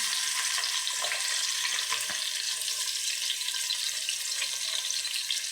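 Sliced onions sizzling and frying in hot oil in a pan, a steady crackling hiss throughout with no talk.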